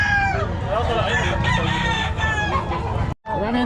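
Several roosters crow loudly and repeatedly among poultry at what appears to be a rooster seller's gathering, with clucking and background chatter throughout, briefly cutting out near the end before another crow starts.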